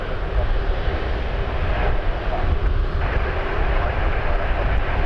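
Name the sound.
Boeing Dreamliner airplane at Toronto Pearson airport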